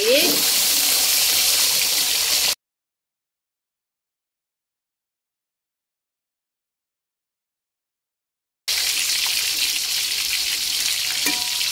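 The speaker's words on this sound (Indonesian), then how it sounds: "biar nggak meletup-meletup ketika digoreng kita kasih tepung terigu sedikit ikannya kita balik" Tilapia frying in hot oil with a steady, loud sizzle, broken by a long stretch of silence before the frying resumes.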